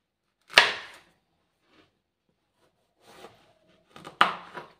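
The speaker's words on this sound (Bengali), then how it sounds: "এখন আমি লাউ কাটবো।" A knife cuts into a bottle gourd with a few sharp chopping strikes, one near the start and a cluster near the end, separated by quiet stretches; close and fairly loud.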